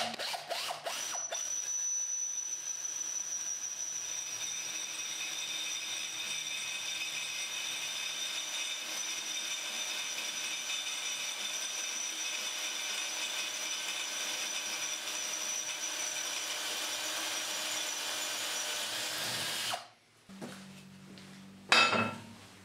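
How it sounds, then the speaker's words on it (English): A steady high-pitched whine of a drill with a 7mm bit at slow speed biting into stainless steel runs for about twenty seconds without pause, then stops abruptly. "We're now using a 7mm drill bit on a slower speed."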